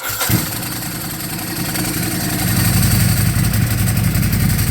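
A Ducati 999 motorcycle fitted with a Zard exhaust cranks and fires up, then settles into a loud, rough idle that grows fuller and deeper, close by with no talking.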